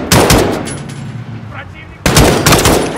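Call of Duty Modern Warfare gameplay with loud bursts of rapid gunfire, a dense volley at the start, a quieter gap, then another heavy burst near the end.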